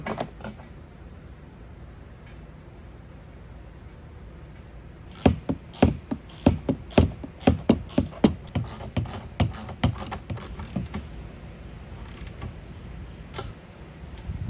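An 8-inch ratchet with a 9/16 socket on an extension tightens nylock nuts during assembly of a portable basketball goal, giving a quick burst of sharp, close clicks after a quiet stretch, then a few scattered ticks.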